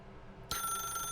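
A telephone in The Stanley Parable video game starts ringing abruptly, a sustained electronic ring that cuts in sharply over a quiet room hum and holds steady.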